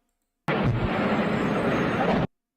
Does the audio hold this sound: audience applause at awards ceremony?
no